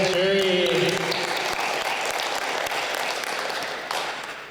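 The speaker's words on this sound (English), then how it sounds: "Round of applause for Celia and Jury." Audience at an international school literacy celebration in northern Japan applauding, a full steady burst of clapping that slowly tapers, with a brief voice or tone at the very start.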